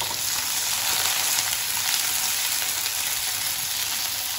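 Green chillies roast in a hot pan for a spicy anchovy fish curry, giving a steady, dense sizzle that stays loud and even from start to finish.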